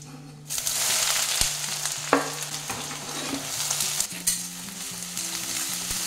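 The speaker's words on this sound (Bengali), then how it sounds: "এটা ভালো করে ভেজে নেব আগে।" Two large sliced onions frying in a pan, a loud steady sizzle that starts abruptly as they drop in, with a few sharp stirring clicks and a low hum beneath, no voices.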